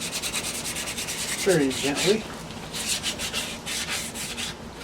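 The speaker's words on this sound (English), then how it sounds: "Do a little wet sanding here," Hand wet sanding on a solar light fixture, a soft repeated rubbing scrape in short gentle strokes, close and clear, with a brief quiet spoken remark.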